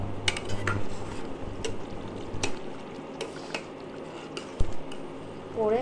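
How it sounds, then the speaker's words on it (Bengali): Scattered metal clinks and scrapes as cooked shankar (stingray) fish curry, prepared meat-style in a kadai wok, is poured into a bowl, with a few sharper knocks and a low hum beneath. "সেটাকে আমি আবার বাটিতে ঢাললাম এখন একটু"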